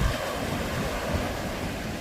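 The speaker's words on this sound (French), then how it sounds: "Ça fait des grosses vagues." Big sea waves wash onto the shore in a steady, loud roar of surf with wind buffeting the microphone, continuous throughout and with no voices.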